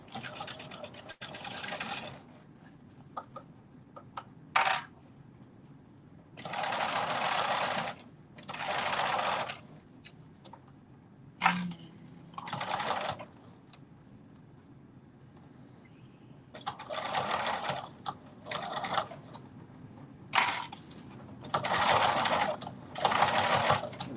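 A sewing machine stitches a half-inch seam in a garment in several bursts of steady whirring, each a few seconds long, separated by pauses with quiet handling noises and a brief click.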